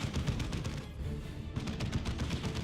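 Grenade blast amid heavy battle noise in Warhammer 40,000: Dawn of War 2: Chaos Rising, a dense, continuous wash of explosions and gunfire that thins briefly and then surges back.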